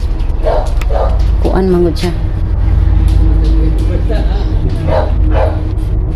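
Several dogs bark in short yipping bursts at close range, some sharp and repeated, while a person talks over a steady low rumble.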